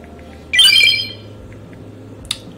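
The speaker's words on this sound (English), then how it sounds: "my phone's still not on vibrate" A phone ringtone bursts out during a livestream, a loud tonal chime lasting about half a second, followed by a short, fainter electronic blip a moment later over a quiet background hum.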